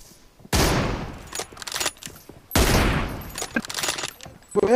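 Gunfire in the mobile battle royale game PUBG Mobile, in a 1v1 team deathmatch with AR and M24: two loud bursts of shots with sharp cracks and scattered trailing pops, close and dominant.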